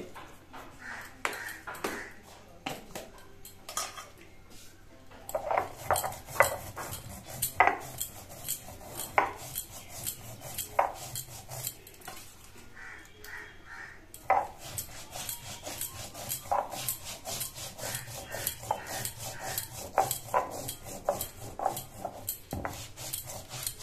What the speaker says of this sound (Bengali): আমরা এখন এখানটা মশলা বেটে নেব শিলনোড়ায়।